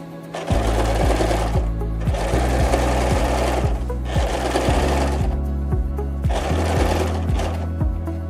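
A sewing machine stitching baju kurung fabric in rapid, steady bursts of needle clatter, stopping briefly between runs, close and loud with no talk.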